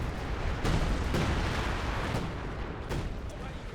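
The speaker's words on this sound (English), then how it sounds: "105 howitzer barrage" A 105 mm howitzer barrage in a World War II strategy game rumbles as a dense, continuous roar of overlapping distant explosions with a few sharper booms, heavy and sustained under faint background commentary.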